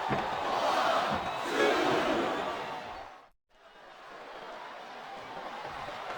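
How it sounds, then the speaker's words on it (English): An arena crowd roars and cheers throughout in the wrestling video game SmackDown vs Raw 2007, swelling loud, dropping out for a split second, then continuing at a steady level. "I think these superstars are getting some feedback from the crowd, JR."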